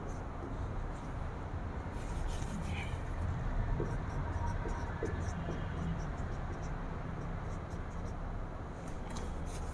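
Marker or chalk scraping across a board during a chemistry lesson, a steady textured rubbing that runs throughout under a noisy room background, with a teacher's voice faintly mixed in.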